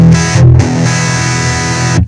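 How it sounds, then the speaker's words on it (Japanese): A heavily distorted electric guitar through a VOX Pathfinder 10 amp, with loud sustained chords that shift pitch, cut out briefly, then ring on before stopping abruptly near the end. "思っていたよりもギャインって感じで歪みますね。"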